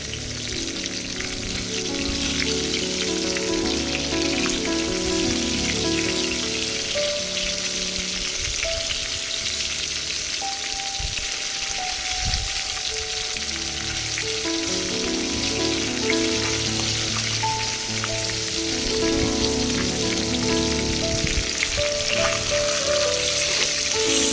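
Pieces of rohu fish frying in hot oil after being turned over, a dense continuous crackling sizzle like heavy rain, loud and close for the whole stretch.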